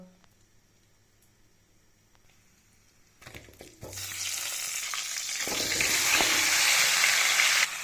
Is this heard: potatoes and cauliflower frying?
yes